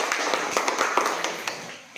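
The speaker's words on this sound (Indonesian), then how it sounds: "mari tepuk tangan dengan kelompok si Aurel" Classroom applause for Aurel's group at a free primary school, a scattered patter of children's clapping with sharper individual claps, fading toward the end.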